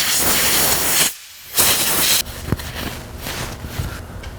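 An all-in-one primer-and-paint spray can coating the face of a custom car instrument cluster panel, heard as a close, steady hiss that breaks off briefly, resumes, then softens into lighter spraying with faint handling noises.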